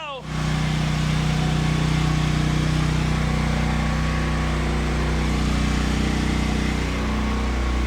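Portable generator runs inside a homemade noise-reduction box, a loud, close, steady engine drone with a low hum that starts at once and holds throughout.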